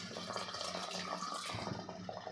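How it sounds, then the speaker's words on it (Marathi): Hot water is poured into a pan of chicken curry, making a soft, continuous watery splash that stays quiet and close for a couple of seconds, with no voices. "आपल्याला चिकनमध्ये अगदी थोडंसं पाणी घालायचं आहे"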